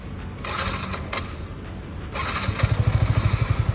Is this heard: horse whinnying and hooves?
no